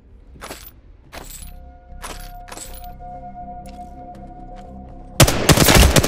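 Video game gunfire in an Apex Legends training range: four separate sharp shots at roughly one-second intervals, then after a pause a loud burst of rapid automatic fire near the end.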